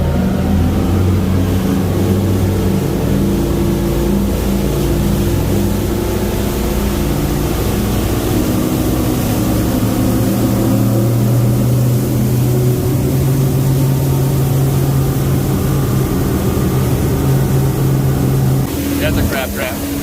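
Twin outboard motors on a Tiara 38 LS boat run at a steady, loud drone throughout, a deep layered engine hum that shifts slightly as the boat is steered, with a voice talking over it at times.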